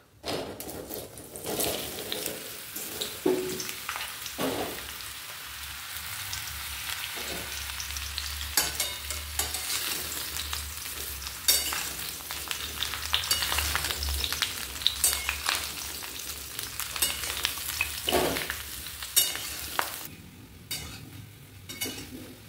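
Mango pieces hit a hot pan already sizzling with Bengali five-spice for a jaggery mango jam, giving a steady close frying hiss with occasional stirring scrapes and no talk.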